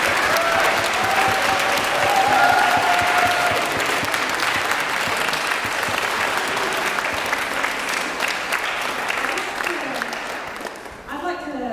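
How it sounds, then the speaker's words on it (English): Sustained applause from a large audience for student performers at a school arts show, dense and steady throughout with cheering voices mixed in, tapering off in the final second. "the final round of applause has to go to all of our wonderful student performers"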